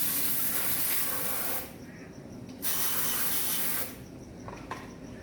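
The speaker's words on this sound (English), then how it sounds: "Your pump, I like to just hose the top off." Water from a hose sprays over the top of a plaster pump on a drywall plastering job, a loud steady hiss that stops twice briefly and then resumes, no voices.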